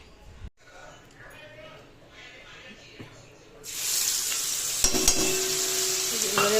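Onion and garlic for a fish curry are dropped into a hot pan, and a loud sizzle bursts in partway through after a quieter stretch, with a voice talking around it.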